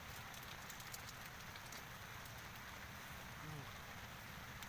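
Rain falls steadily at the Cirata reservoir, a constant soft patter on surfaces with a faint, even wash of drops that holds without pause.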